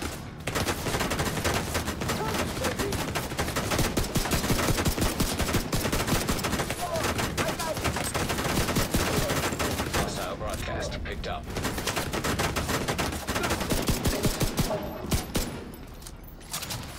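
Sustained, dense minigun fire in The Division 2 rattles almost without pause, loud and close, with a few brief gaps near the end and voices talking over the gunfire.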